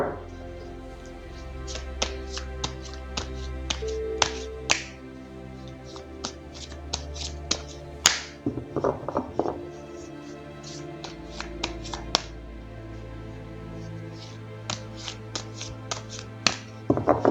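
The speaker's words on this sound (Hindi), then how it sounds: "तो चलिए पहले ज़रा कार्ड्स को शफल कर लेते हैं" Tarot cards being shuffled by hand, a run of crisp light taps and riffling flicks in uneven bursts, close and fairly quiet, over soft background music.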